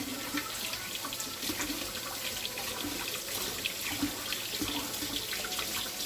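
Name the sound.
rinsing forks under a running tap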